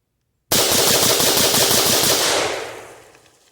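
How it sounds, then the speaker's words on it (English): A semi-automatic rifle with a PSA match trigger fires about 10 rounds in a fast, even burst at an outdoor range, loud and close, with the echo fading after the last shot. "Let's see if I can actually count out 10 as I'm ripping them down range."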